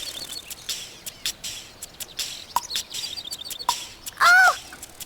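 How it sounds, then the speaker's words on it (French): Cartoon birds chirp and caw in short, scattered bursts while pecking at plums in a farm orchard, with a louder warbling call near the end; the calls sound close and lively with no talk over them. "Didou, des oiseaux! Ils mangent nos prunes!"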